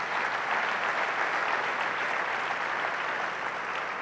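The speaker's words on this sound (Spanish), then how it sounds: "Un aplauso al Señor Jesús." A church congregation applauds steadily, a dense wash of clapping from many hands throughout, with no talking over it.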